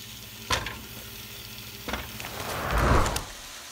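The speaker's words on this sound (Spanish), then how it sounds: "empecemos a freír nuestro chorizo" Chorizo frying in a pan for charro beans gives a steady, fairly quiet sizzle, broken by a few sharp scrapes of stirring. No one speaks.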